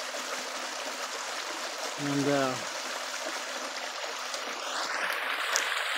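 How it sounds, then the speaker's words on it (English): Water flows along a sandstone drainage creek near a house, a steady close trickling rush, with a brief low voice cutting in partway through. "this is a drainage creek over by our house"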